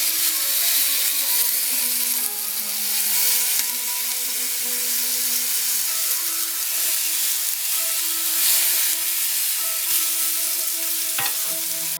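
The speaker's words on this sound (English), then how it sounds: "You want to hear that sizzle when that meat hits the pan." Steaks sizzle loudly and continuously in a hot pan over high heat, a dense crackling hiss with occasional clinks and scrapes, no voices.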